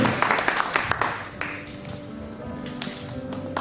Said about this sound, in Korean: 여러분들 뜨거운 박수 한 번 주세요.